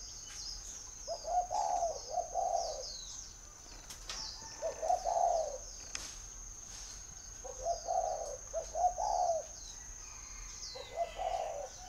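A spotted dove coos in repeated soft phrases, several times with pauses between, alongside a steady high whine and faint chirps.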